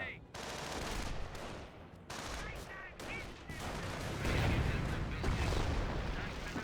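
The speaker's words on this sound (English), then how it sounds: "Calliope eyeing for a close range barrage on these stormtroopers" T34 Calliope rocket artillery barrage in Company of Heroes, a dense, continuous roll of overlapping rocket launches and blasts that thickens toward the end, with the battle rumbling underneath.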